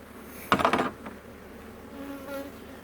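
Honeybees at a hive give a sudden close buzz that flares for about half a second and fades, followed by quieter intermittent droning in the background.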